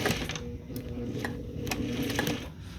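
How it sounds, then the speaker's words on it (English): A sewing machine stitches a down jacket in rapid bursts of mechanical clatter. The whirring runs continuously with a few sharper ticks, close to the listener. Someone speaks faintly in the background. "This is my like second time using this sewing machine"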